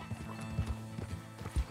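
A horse in Red Dead Redemption 2, soft hoof clip-clops on the ground with a faint low snort or whinny, quiet and close, under a low game background hum.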